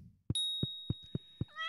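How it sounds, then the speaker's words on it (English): Cat meowing in Stardew Valley, a short synthetic meow at the end, preceded by a steady series of five soft, evenly spaced thumps and a high ringing tone, with no talk. "Hello, kitty cat. How are you today?"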